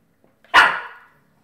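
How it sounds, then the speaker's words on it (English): One sharp, close bark from a dog, sudden and fairly loud, fading quickly into a quiet room with no talking. "The reason why he's barking is because Penny is hiding underneath a chair."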